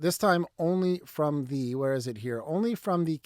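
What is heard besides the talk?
No everyday noises stand out.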